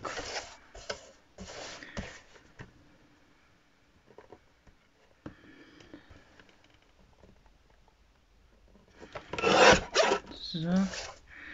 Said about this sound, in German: Dann schneide ich mir jetzt erstmal hier mein Stück zurecht.